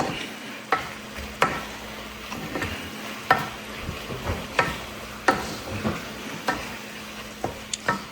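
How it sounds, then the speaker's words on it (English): Zucchini and fresh pepper being stir-fried in a wok for a vegan Chinese dish: a steady low sizzle with a spatula scraping the metal in repeated, fairly regular strokes, close and clear, with no talking. "put the pepper in there. Because the pepper you want to eat freshly. Just cook maybe 30 seconds is enough."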